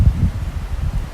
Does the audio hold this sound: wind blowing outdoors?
yes